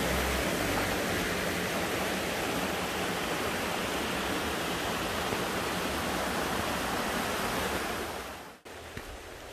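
Mountain stream rushing through Yongchu valley at Daeyasan, a steady, dense wash of flowing water heard close and loud without pause, ending abruptly with a short drop near the end.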